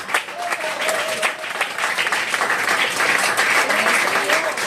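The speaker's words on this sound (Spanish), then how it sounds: "Denle un aplauso a Jesucristo." A church congregation applauds with sustained, dense clapping that swells and holds strong, while a voice rises faintly over the crowd.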